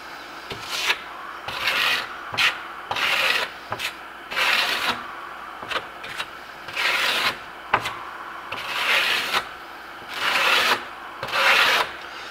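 A trowel scrapes marmorino Venetian plaster over tape on a wall in repeated rasping strokes, each pass a loud sweep separated by short pauses, close up with no talking.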